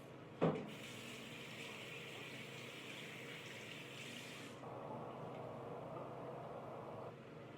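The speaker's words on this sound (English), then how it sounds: "So what I am going to be doing is just a little bit of water to make it easy, just on my hands." Tap water running and splashing onto hands at a sink during an at-home hair wash, a steady close hiss that starts after a brief knock and shifts slightly in tone partway through, with no talking.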